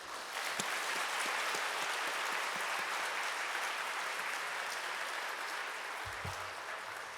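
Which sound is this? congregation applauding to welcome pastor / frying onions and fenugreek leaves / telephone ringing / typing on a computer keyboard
congregation applauding to welcome pastor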